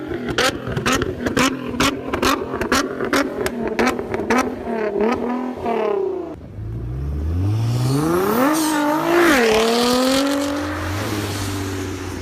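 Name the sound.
2016 Nissan GT-R engine revving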